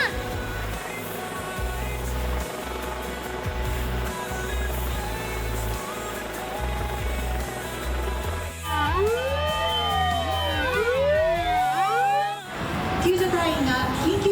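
Several fire engine sirens wail during a fire drill simulating a fire after a magnitude-6 earthquake, rising and falling in overlapping sweeps over a continuous background with talk under it.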